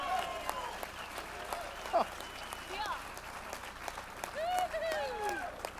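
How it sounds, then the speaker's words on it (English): An audience at an event claps in a steady round of applause while people talk and call out over it, and scattered cheers rise above the clapping. "Give yourselves a round of applause."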